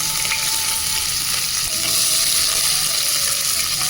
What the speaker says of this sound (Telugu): ఇందులో ఇప్పుడు ఉల్లిగడ్డ యాడ్ చేసుకుందాం.